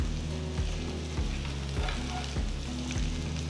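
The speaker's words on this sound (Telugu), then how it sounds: "పొయ్యిని మీడియం ఫ్లేమ్లో ఉంచి వీటిని మంచి గోల్డెన్ బ్రౌన్ రంగులోకి వచ్చేంత వరకు వేయించాలి." Colocasia (arbi) pieces fry with crushed garlic in a pan over a medium flame, giving a steady, dense sizzle broken by a few soft scrapes of stirring at regular intervals.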